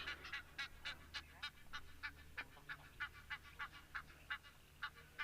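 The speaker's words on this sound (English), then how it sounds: "Sounds like the Egyptian geese are rather unhappy with someone." Egyptian geese honk repeatedly in a rhythmic series of about fifteen nasal calls, faint and distant in a wildlife setting with wildebeest nearby, with no talking over them.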